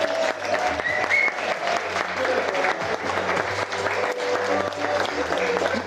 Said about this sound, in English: Ladies and gentlemen, let us give them another big round of applause